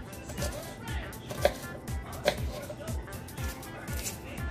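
A knife chops ingredients small on a cutting board while eggs are being prepared, making quick repeated taps in an irregular rhythm that run beneath continuous talking.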